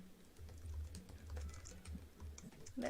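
Typing on a computer keyboard: a steady run of quick, light key clicks at close range, irregular in rhythm, over a low background hum, with no talking.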